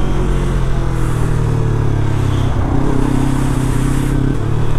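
A 250 NK motorcycle engine drones steadily while riding, a loud low rumble with small shifts in pitch as revs change, heard on its own without talk.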